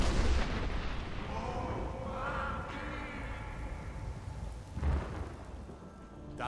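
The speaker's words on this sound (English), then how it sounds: "Didn't you hear the thundering sound as you returned to Whiterun?" A deep, rumbling thunder-like roar from the Greybeards' shout in Skyrim rolls on steadily for several seconds, with a second swell near the end, loud and reverberant without speech.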